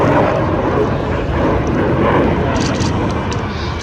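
A Sukhoi Su-27 jet with twin Saturn AL-31F afterburning turbofans roars loud and continuous, a broad dense engine rumble and hiss that holds steady throughout.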